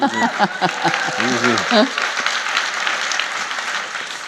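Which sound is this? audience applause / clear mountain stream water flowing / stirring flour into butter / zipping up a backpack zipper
audience applause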